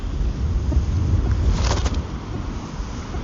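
Strong 40 km/h wind blows across an open fishing spot, a constant heavy buffeting roar battering the microphone, loud and unbroken for the whole stretch.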